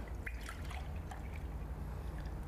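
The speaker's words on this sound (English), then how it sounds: "So you pour the correct amount into the coffee pot." Milk poured into a coffee pot beside a coffee machine, a steady close liquid trickle and splash running throughout with no talking.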